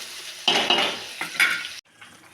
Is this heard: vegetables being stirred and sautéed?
yes